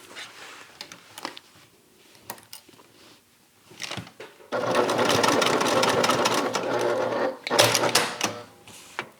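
A sewing machine basts a closure piece onto a bag lining, giving a close, steady mechanical whir of rapid stitching that runs for several seconds after some quiet handling clicks, with a short second burst near the end.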